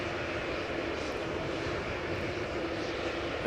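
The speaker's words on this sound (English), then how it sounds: "This is KLM Flight 605, 787-10 Dreamliner going to San Francisco, 3 years old, first flight May 2020." KLM Boeing 787-10 Dreamliner, three years old, at Amsterdam Schiphol Airport: a continuous, fairly loud jet engine rumble and rush that stays steady and close throughout, with no voices over it.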